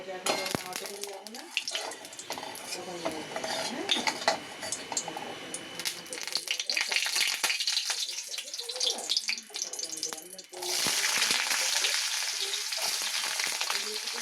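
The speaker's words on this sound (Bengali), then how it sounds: "তেলের মধ্যে দিয়েছি গোটা সাদা জিরে আর আলুটা এবার ছেড়ে দেবো" Potatoes go into hot oil with whole cumin seeds, a loud crackling sizzle with stirring clatter, then a sudden, steadier and brighter hiss of frying in the last few seconds, with a voice talking at times.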